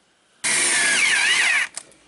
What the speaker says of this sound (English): I gotta drill, what, 2 holes per door, almost 100 holes?